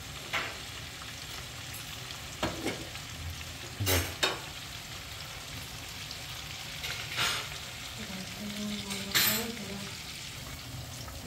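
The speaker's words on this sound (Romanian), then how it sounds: "îi lăsăm un pic la prăjit. Să se și rumenească" Squid tentacles sizzling and frying in a pan, a steady crackle broken by occasional scraping and clinking of a utensil being stirred.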